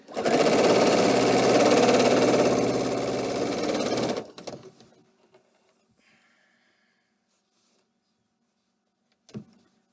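A sewing machine stitches 1-inch fabric strips for a small quilted mug rug, running as a loud, steady whir for about four seconds before stopping. A quiet stretch and one faint knock follow.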